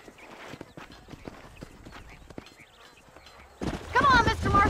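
Horses walking in the Western video game Red Dead Redemption, a quiet, irregular clip-clop of hooves with faint voices underneath, then a louder burst of sound near the end.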